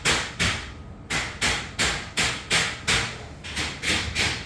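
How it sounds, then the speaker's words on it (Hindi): Rhythmic percussive impacts from work in a kitchen of a newly moved-into home, about a dozen evenly spaced strikes, moderately loud and heard alone. "तो ड्रिलिंग हो रही है वहाँ पे"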